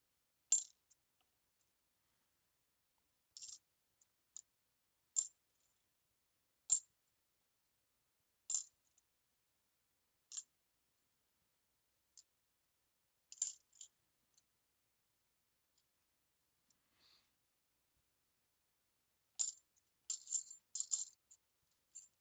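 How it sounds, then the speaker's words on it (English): Dice rolled and clattering during a half dollar coin box hunt, giving sharp, sparse, light clinks and rattles at irregular intervals, close but quiet, with a small cluster of quick tumbling clicks near the end and no talking. "So we'll go through and everybody will get their dice roll."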